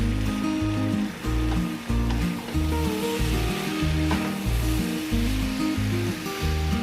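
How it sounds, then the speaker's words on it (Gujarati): Sabudana khichdi is stirred in a pan, giving rhythmic scraping strokes roughly every half second over a continuous sizzle, close up and with no voices. "તો હવે સાબુદાણાને આપણે હલાવી લેશું."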